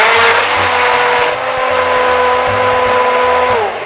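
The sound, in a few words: blender running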